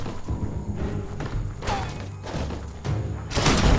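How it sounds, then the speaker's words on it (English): Explosive barrel blowing up in the video game Biomutant, a loud burst near the end following a dense stretch of game effects and thuds. "Shoot it and watch it blow."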